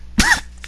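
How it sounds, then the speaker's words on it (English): A person clears their throat up close with a quick, harsh rasp, followed by another short rough burst. "Let me clear my throat."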